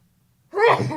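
A single sharp sneeze bursts out close up after a moment of near silence.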